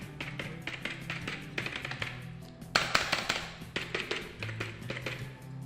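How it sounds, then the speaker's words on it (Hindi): A cheap local computer keyboard is tapped over and over, its loose keys giving close, rapid clattering rattles in an uneven rhythm, with a slightly louder burst midway. "अगर आप इसको ऐसे ठोकेंगे, देख सकते हैं किस तरह का आवाज़ आ रहा है। ये सब जो बटन है ये सब का आवाज़ आता है।"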